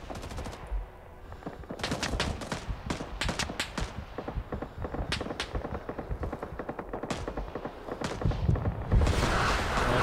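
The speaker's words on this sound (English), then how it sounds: "You grab an M60 machine gun." An M60 machine gun fires in the Vietnam-era shooter game Rising Storm 2: Vietnam, loud rapid bursts of automatic gunfire repeating over several seconds with other battlefield shots and a heavier thump near the end.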